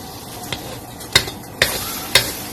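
Oil heating in a pan for stir-fried glass noodles, a vegetarian festival dish, gives a faint steady sizzle broken by four sharp clinks of a utensil against the pan.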